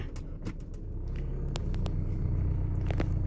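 A car is driven slowly down the road with a steady low rumble that swells slightly over time, and a few faint clicks and knocks sound inside the cabin.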